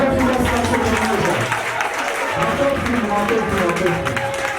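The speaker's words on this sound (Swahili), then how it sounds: "Makofi ya sasa pamoja." An audience at a celebration applauds together, a dense, steady wash of clapping mixed with crowd noise and voices throughout, fairly loud and continuous.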